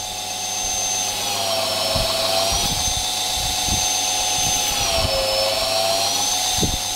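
A knife blade being ground and polished through reducing grits: a continuous, loud high-pitched whine from the spinning grinder, wavering slightly in pitch as the blade is worked, with faint scraping contact underneath and no talk.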